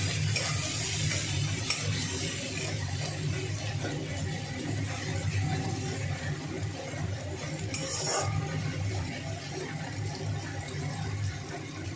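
Loita fish bhorta with tomatoes cooking in a pan on a lowered flame, a soft continuous sizzle with occasional scraping stirs and a light clink, steady and close.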